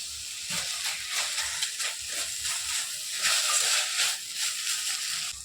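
Leafy vegetable bhaji cooking in a pan, giving a steady close hiss and steamy sizzle with soft scraping stir sounds throughout, no talking.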